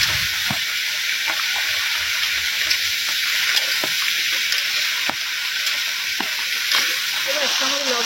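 Pointed gourd, okra, potato and ridge gourd fry together in oil in a village kitchen, a bright steady hiss with occasional clinks of a utensil, close and loud.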